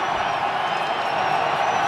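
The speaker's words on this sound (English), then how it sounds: "Tremendous crowd noise at Gillette." A packed football stadium crowd at Gillette Stadium roars in a steady, dense wash of cheering, close and loud throughout.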